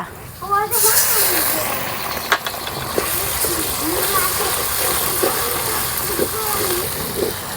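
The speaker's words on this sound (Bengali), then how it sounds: "এবার দিয়ে দেব বাটা মশলা।" Ground spice paste drops into hot oil with onion and whole garam masala for a beef and green banana curry, setting off a sharp burst of sizzle that settles into a steady hiss with utensil clatter and occasional voice.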